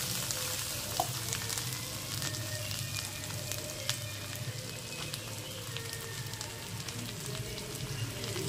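Spice paste and fried potatoes stirred in a hot pan, a steady close sizzle and crackle of frying with faint scraping from stirring, running continuously without speech.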